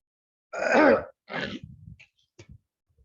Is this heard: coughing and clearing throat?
yes